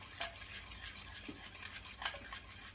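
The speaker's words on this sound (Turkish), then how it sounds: "Şöyle biraz daha karıştırayım." A spoon stirs an egg-free topping mixture for leopard-pattern pastries in a bowl, making two brief, quiet scraping swishes against a low background hum, with no talking.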